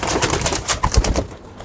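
Pigeons cooing close by, soft throaty coos rising and falling over a short stretch, with no voices.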